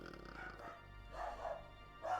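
A dog barks a few times in the background, distant, faint yelps spaced out over a low steady hum, with some talking mixed in.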